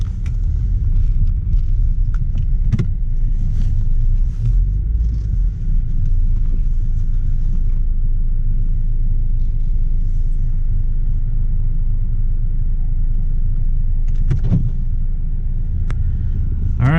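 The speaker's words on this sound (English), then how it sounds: "We're just gonna park it right here." A 2009 Pontiac G5 rumbles low and steady as it is eased into a parking spot, engine noise close and continuous with a couple of faint clunks.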